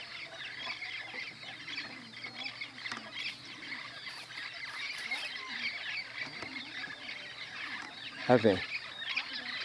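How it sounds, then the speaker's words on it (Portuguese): A flock of parrots calls while flying past a countryside farm, raspy squawks and chatter running steadily throughout at moderate distance, with a brief spoken voice and a sharp close thump near the end. "Aqui estou gravando papagaios ali"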